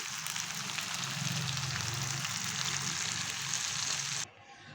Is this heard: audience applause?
no